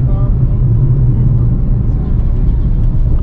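Road traffic on a busy city street on the way to Worli, a heavy, close engine rumble and whir of passing cars that continues steadily beneath a voice talking.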